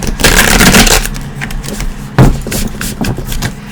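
Tarot cards shuffled by hand, close-up bursts of papery riffling and scraping, a long flurry at the start followed by shorter sharp slaps and rustles.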